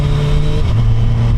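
A 1,300 cc Suzuki Hayabusa sport-touring motorcycle engine, loud and close, holds a steady droning rev with a slight pitch shift partway through, heard alone.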